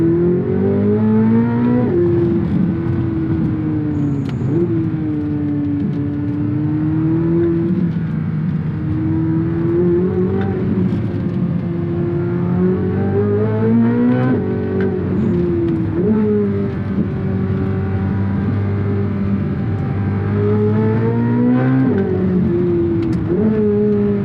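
A Corvette C8 Z06 in Z mode with manual shifting rips up through the gears. Its loud engine wails as it rises again and again, each run cut by a sharp shift. The surge repeats across a long run with no talking.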